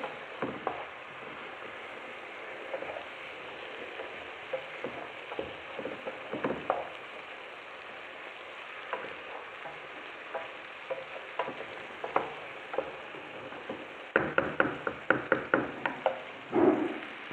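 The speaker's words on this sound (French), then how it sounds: "Je vais laisser mijoter environ 5 minutes." Vegetables and chicken simmering in a pan for a potato gratin, a steady low bubbling sizzle with occasional utensil knocks and stirring clatter that grows busier near the end; no speech.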